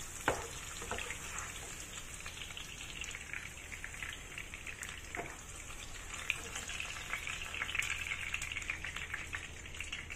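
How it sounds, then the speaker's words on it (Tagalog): Garlic sizzles and crackles steadily in hot oil in a pan while cooking Chinese green beans, a constant close frying hiss with scattered pops and no talking. "Bago tayo mag-fry ng garlic."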